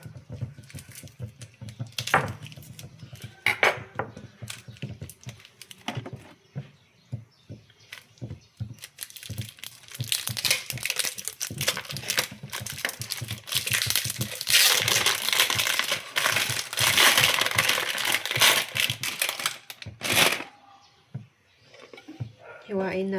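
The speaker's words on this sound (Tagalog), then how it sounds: "hiwain muna natin itong glycerin soap base para madaling matunaw" Glycerin soap base cut into small pieces gives irregular crunching and scraping, denser and louder in the middle stretch, with a voice talking over parts of it.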